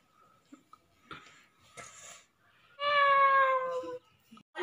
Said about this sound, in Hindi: बिल्ली है क्या?